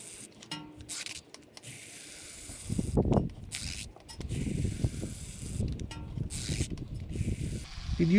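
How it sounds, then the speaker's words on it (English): Fresh brake fluid is pumped through an open bleeder screw on a 2007 Lexus GS 350 front brake caliper. It makes faint, soft, uneven rumbling pumps with a quiet hiss, close by and with no talking. "I just open up the bleeder screw, and I'm going to be pumping fresh fluid from the caliper up to the master."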